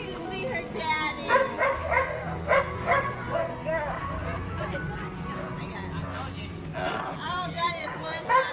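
Dogs crying, whimpering and yipping excitedly as their owner returns home after months away, a busy mix of high whines and short barks close by, with people talking happily over them.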